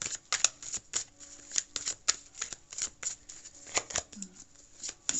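Tarot cards being shuffled by hand, a quick run of crisp riffling flicks and slaps in uneven bursts, close and clear, with a faint voice now and then beneath.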